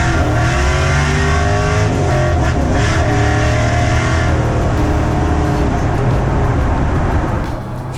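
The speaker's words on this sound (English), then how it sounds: "This is easily the fastest car I've ever driven." A Tri-Five pro touring car on an Art Morrison chassis with independent rear suspension and big tires, its powerful engine roaring loud and close as it accelerates hard, revs rising and shifting, with no talk.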